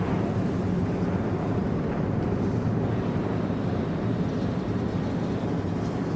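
NASCAR stock car engines fire up together at Talladega Superspeedway, a dense, loud, sustained low rumbling roar from many cars at once with no talking.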